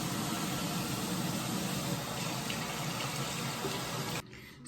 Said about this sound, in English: you wanna make sure that you're using warm water as well